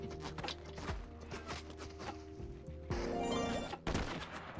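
Repeated gunshots in a video game crack out in an uneven series over a busy in-game background with hoof-like clatter, ending in a louder burst of shots.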